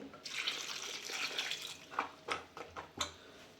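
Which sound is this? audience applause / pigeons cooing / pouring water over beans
pouring water over beans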